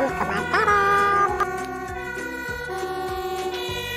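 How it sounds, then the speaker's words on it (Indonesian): A fire engine siren wails in rising and falling tones, loud and close, over a repeating low mechanical pulse throughout. "Mobil pemadam kebakaran."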